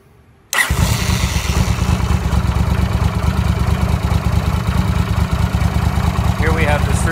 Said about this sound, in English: what I'm gonna do is start up the bike